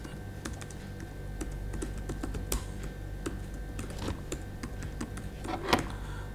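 A username being typed on a computer keyboard: a continuous run of quick, close key clicks with an irregular rhythm and one sharper tap near the end, with no voices.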